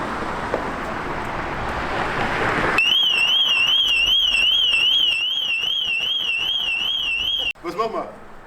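A motorcycle's alarm triggered when the seat is lowered: a loud, steady warbling siren that starts abruptly over outdoor wind and traffic noise, runs for several seconds, then cuts off, followed by brief rustling.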